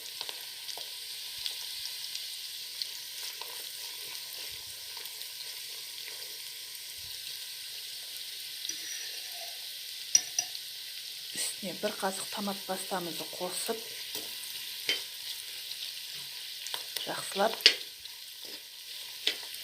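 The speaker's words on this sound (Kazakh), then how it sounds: "тамаққа жуамызды шыжғырып, қуырып, жуамыз турап, үстіне үккіштен өткен сәбізімізді салып" Onion and grated carrot fry in a pan for Kazakh-style meatballs with potatoes, a soft continuous sizzle that carries on while a voice speaks over it in the second half.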